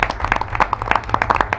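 An audience at a school district meeting applauds for about a second and a half, a loud, dense patter of many hands clapping unevenly with no voices over it.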